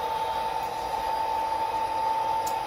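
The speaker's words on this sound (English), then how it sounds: "This one is an ore train." Ore train rolling on a model railroad layout at a model railroad museum, a steady, even running hum with a faint high whine, continuous and unbroken for the whole stretch, with no voices.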